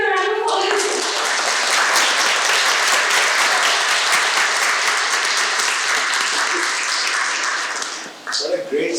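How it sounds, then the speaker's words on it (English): Sustained audience applause at a lecture in a university hall, a dense, steady wash of clapping that holds loud for about eight seconds before thinning out, with a voice starting up at the very end. "Please give a round of applause."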